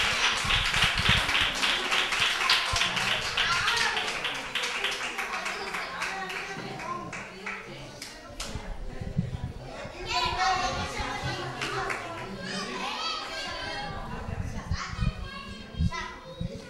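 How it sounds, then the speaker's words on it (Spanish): Clapping at a youth football club's end-of-season ceremony, for a boy on an under-10 team; scattered claps mix with lively children's voices and chatter throughout. "Venga, campeón, un aplauso fuerte."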